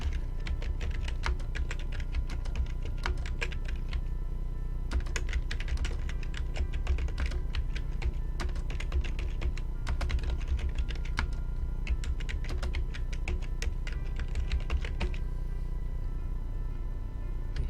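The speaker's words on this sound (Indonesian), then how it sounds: "teman-teman mengetikkan suatu kata atau kalimat" Continuous typing on a computer keyboard while entering text in design software, with steady rapid key clicks and occasional louder strokes running throughout, close and clear with no talking.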